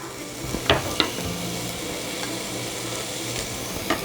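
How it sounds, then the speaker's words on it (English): Diced onion and garlic frying in butter and stirred in a pan, a soft even sizzle with a few brief spoon scrapes and knocks against the pan. "we just want to give that a stir until our onions are nice and translucent"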